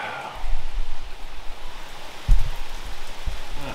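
Steady rain patters on a surface close by, a soft continuous hiss with a few louder drops and bumps.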